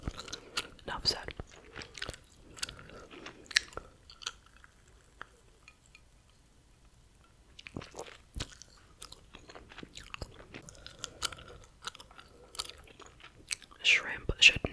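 Gum chewing close to the microphone during a whispered ASMR session, with moist, crackly bursts of mastication broken by quiet pauses and soft whispering throughout.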